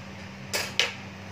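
A lid is set onto a cooking pot of potato and greens (saag), giving two quick metallic clanks about a quarter second apart, close and fairly loud over a low steady hum.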